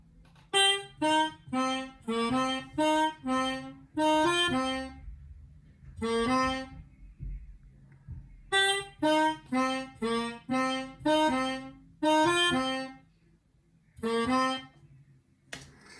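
A melodica plays a short, reedy melodic phrase of separate notes in two bursts with a brief pause between them, heard alone.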